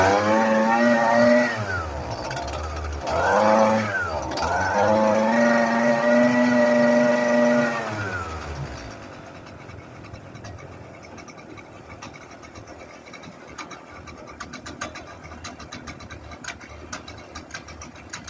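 A Husqvarna string trimmer's small two-stroke engine running on 24-year-old kerosene, buzzing loudly and revving up and down for about eight seconds before cutting out, leaving quiet room noise and faint clicks.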